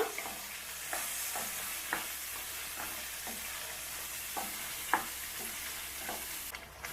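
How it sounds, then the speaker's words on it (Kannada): Egg kurma masala fries in plenty of oil, a soft continuous sizzle with periodic gentle stirring scrapes roughly every second, fairly quiet and steady. "ಇದು ಫುಲ್ ಎಣ್ಣೆಯಲ್ಲಿ ಸ್ವಲ್ಪ ಫ್ರೈ ಆಗಬೇಕು ಹಸಿ ವಾಸನೆ ಎಲ್ಲ ಹೋಗುತ್ತೆ"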